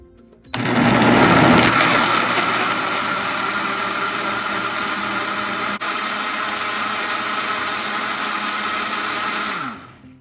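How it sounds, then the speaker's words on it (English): A blender whirs loudly and steadily for several seconds blending coconut, strawberries and ice, with a grinding burst at the start as it catches the contents, then cuts off at the end. "Close the blender"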